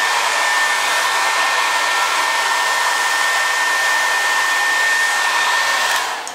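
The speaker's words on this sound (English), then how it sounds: "It's one of those brush hair dryers." A brush hair dryer blows with a steady, loud whoosh and a faint high whine, running continuously before tapering off at the very end.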